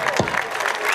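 A brief burst of dense clapping from a crowd at a family gathering with a live cumbia band, loud and close, with a voice faintly mixed in.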